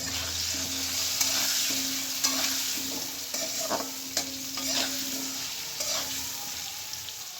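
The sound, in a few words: potatoes frying in a pan with salt and turmeric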